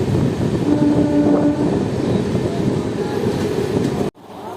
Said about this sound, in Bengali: আমাদের ট্রেন পৌঁছেছে এখন গলসি রেলওয়ে স্টেশন